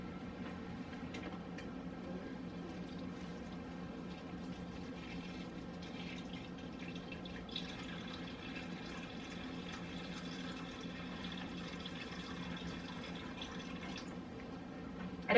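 Tap water running steadily into a container in a home kitchen while baking, a constant soft splashing flow that lasts throughout at a moderate, even level with no talking.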